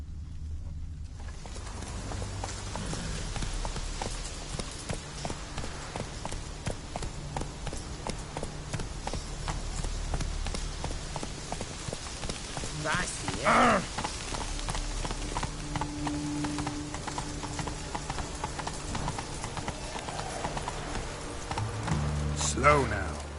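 Roach, the horse in Witcher 3, clip-clops along steadily at close range with game sounds in the background, and someone talks over the hoofbeats.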